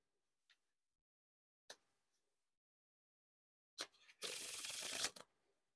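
Playing cards from a 2nd-brand deck of soft, lightweight crushed-stock cards are tapped a few times, then riffled in a dense burst of roughly a second, quiet and close with no voices.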